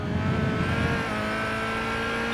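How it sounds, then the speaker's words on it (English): Race car engine in Gran Turismo 5 holds a steady high drone, then the revs drop and settle lower as the car runs into a gravel trap and loses speed, with faint crunching beneath. "you indeed immediately hear the revs going back and losing speed"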